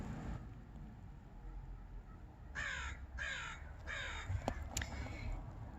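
A crow gives a series of four harsh caws, fairly close over a quiet outdoor background with faint wind.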